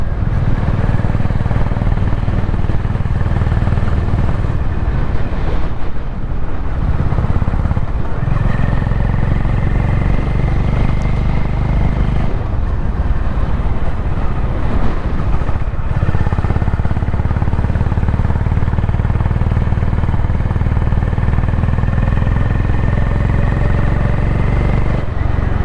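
A Honda CB350 motorcycle cruises in fourth gear along a straight stretch, its engine a loud, close, steady drone with wind rush, rising and falling slightly in pitch as throttle shifts, running continuously throughout.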